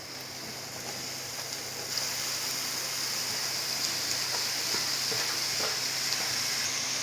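Radish stir-fried in a pan with coconut paste for a Tamil radish egg poriyal sizzles in a loud, even hiss, brightening as the radish goes in, with faint scraping from stirring and no voices.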